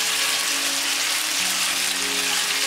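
Egg-coated tofu pieces fry in a hot wok with oil covering the bottom, giving a loud, steady, bright sizzle that fills the space without pause.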